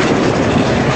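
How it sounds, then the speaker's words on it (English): A Durango and Silverton narrow-gauge train switching on the rails, a steady loud rumble of rolling cars and wheels filling the whole moment without pause. "I got the last footage of this train switching"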